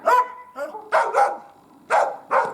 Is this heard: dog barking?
yes